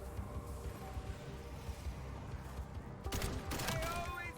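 Rapid bursts of M34 Novaline rifle fire in a zombies round-based video game, starting after a stretch of quieter in-game background noise, with several sharp shots in a cluster near the end.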